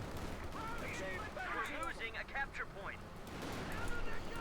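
Bursts of machine gun fire in the World War II strategy game Company of Heroes 2 crackle under a commentator's continuous talk, with rattling volleys and distant battle noise layered through the mix.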